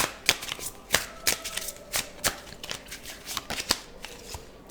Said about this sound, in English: Let's go ahead and grab one of these cards.